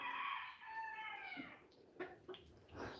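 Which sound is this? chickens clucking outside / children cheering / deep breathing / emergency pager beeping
chickens clucking outside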